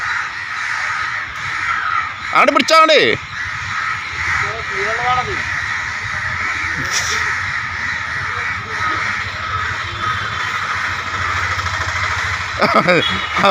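Crows caw repeatedly nearby in a tree while people talk and call to one another, with a loud burst of caws near the start and another near the end, over steady background noise.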